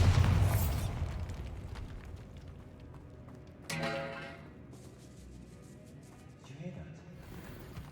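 A Bombarda spell blasts in the Hogwarts Legacy video game, a sudden sharp burst partway through that rings briefly over steady background game sound and a quieter rumble.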